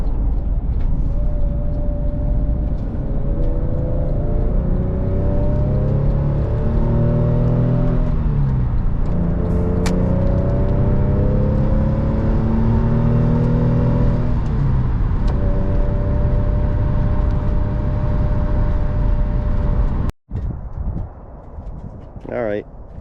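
A Porsche 911 996 comes down off a lift and is driven outside. A steady, fairly loud mechanical whir with rising and falling tonal lines runs throughout, then cuts off abruptly near the end into a short, different-sounding stretch.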